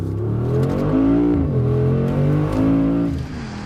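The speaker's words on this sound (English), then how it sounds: "A big turn and return to the home straight when kickdown is activated." Mercedes SUV accelerating hard with kickdown on a test track, a loud engine roar climbing in pitch, dipping briefly at a gear change, then rising again before easing off.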